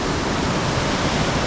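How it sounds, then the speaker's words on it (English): El Chispero waterfall near Medellin roars in a loud, dense, unbroken rush of falling water, heard up close from beside the top of the falls with no voices. "What an amazing waterfall."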